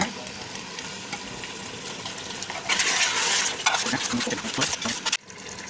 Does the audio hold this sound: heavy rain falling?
no